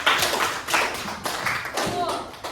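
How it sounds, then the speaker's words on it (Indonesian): Students clap in a classroom, in several short bursts of rhythmic, patterned clapping separated by brief pauses, fairly close, with voices heard in between. "selanjutnya tepuk tangan yang terbaik."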